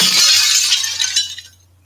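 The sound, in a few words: glass breaking sound effect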